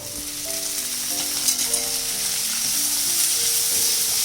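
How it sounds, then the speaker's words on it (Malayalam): Fresh corn kernels tipped into a pan of onions and chili flakes for a corn cheese samosa filling, giving a steady, close sizzle with faint scraping as the mix settles. "നമുക്ക് 1 കപ്പ് കോൺ ഇട്ട് കൊടുക്കാം."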